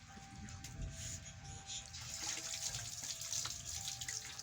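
Water pours steadily from a tap, a continuous hissing splash at close range that holds through the whole stretch, with people talking faintly alongside.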